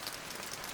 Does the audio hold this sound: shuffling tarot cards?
no